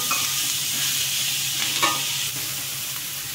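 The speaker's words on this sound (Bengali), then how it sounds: "একটু ঢেকে এটাকে একটু ভাজবো" Paneer fries in a covered pan in a soft, continuous sizzle that stays even throughout, with a brief scrape or stir near the middle.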